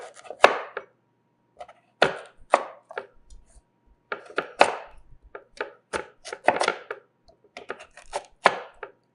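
A knife chops through a vegetable for Southern chili on a cutting board, with several clusters of sharp, close knocks and cuts spaced irregularly, heard alone without talk.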